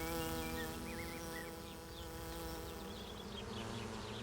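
A swarm of honeybees hums in a dense, continuous buzz, close and steady, with individual wingbeats rising and falling in pitch above the drone.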